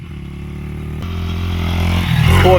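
A 1995 Honda XR80 dirt bike engine shifts up into second gear: a steady close, loud motor drone with a brief break, then revs climbing and rising in loudness toward the end.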